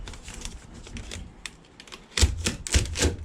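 A utility knife with a dull blade trims Typar house wrap around a window, making quick crisp slicing and tapping clicks that grow sharper and louder toward the end. Close, with no talking.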